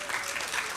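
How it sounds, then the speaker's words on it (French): A church congregation applauds during a worship service, a steady wash of close clapping from many hands that fills the short moment without pause. "Nous applaudissons le Seigneur pour ça."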